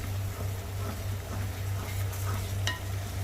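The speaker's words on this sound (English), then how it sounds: "Gently stir the masala so that it doesn't get burnt from the bottom." Crab masala being stirred in a pan over a slow flame, with a soft steady sizzle and gentle scraping, and a low constant hum beneath throughout.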